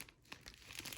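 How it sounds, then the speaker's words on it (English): A plastic Ziploc bag crinkles and rustles as hands handle it, a brief, close, crackly burst of noise with no talking. "pointed downward here in this plastic bag, this Ziploc bag, and I'm going to slip that down in my shoe"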